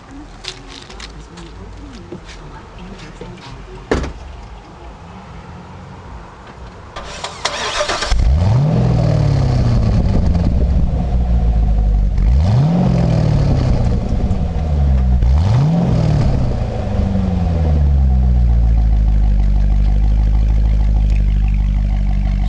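A 2005 Chevrolet Corvette Z51 engine cranks and starts after a stretch of quieter background sounds, then settles into a deep, loud running rumble heard close at the exhaust, blipped up in revs three times.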